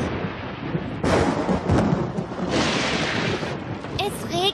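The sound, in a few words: rain and thunderstorm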